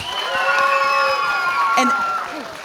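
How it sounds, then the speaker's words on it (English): Audience cheering and applause at a student showcase, with raised voices and shouts swelling over steady clapping from a nearby crowd for the whole stretch. "So can we give Sarah and Bryn a big round of applause?"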